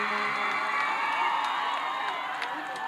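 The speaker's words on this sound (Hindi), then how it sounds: "जब तालियों की गड़गड़ाहट से आप स्वागत करोगे" Crowd cheering, whooping and clapping at an outdoor stage show in India, a dense continuous roar of many voices with scattered sharp claps, heard from within the audience.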